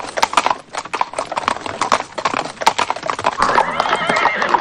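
Horses of mounted officers marching toward the German border: dense overlapping hoof clip-clop on hard ground with occasional whinnies, loud and close, under a steady crowd of movement.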